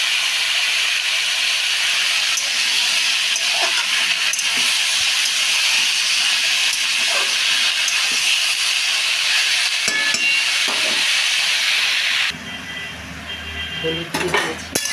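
Turmeric being stirred into food in a hot pan, with a steady hiss and soft scraping that runs continuously, then the sizzle drops away abruptly near the end, leaving quieter clinks and shuffles.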